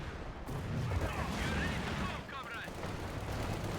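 Gunfire in a competitive multiplayer shooter match with British rifles, snipers and engineers. There is a sharp crack near the start, then a dense rumble of mixed weapon fire. Other voices and game noise sit close over it.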